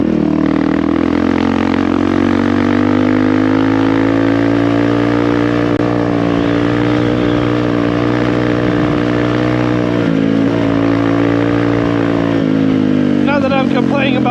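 A Honda CRF450RL dirt bike engine hums steadily and loudly at close range while being ridden across open country, with a rider talking over the drone.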